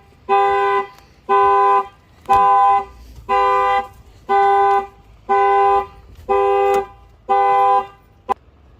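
A Chevy Tahoe's car alarm blares in loud, evenly spaced honking bursts, about eight in a row, each roughly half a second long with short gaps between.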